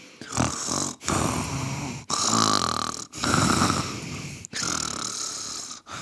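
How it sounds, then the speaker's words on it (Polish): Loud snoring repeats in long, rasping breaths, about five in a row with brief pauses between, close and heavy with no talking. "Chrapał tak głośno, że aż gałęzie się trzęsły."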